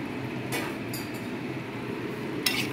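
Pointed gourd and potato pieces dropped into hot oil in a pan, giving a steady frying sizzle with a few sharp clinks and scrapes of a utensil against the pan.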